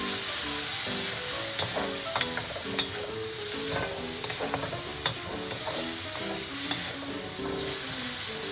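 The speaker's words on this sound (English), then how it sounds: "Now I'm adding in soy sauce. And I'm gonna put about a tablespoon. That's all. And again, stir." Food sizzling steadily in a pan while soy sauce is stirred in, with scraping utensil strokes over continuous frying hiss, close and fairly loud.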